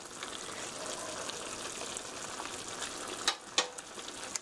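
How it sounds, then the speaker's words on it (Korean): Tofu sauce simmers in a pot, a steady close crackling bubble with soft popping throughout and a couple of sharper clinks near the end, no voices. "보글보글 잘 끓으면"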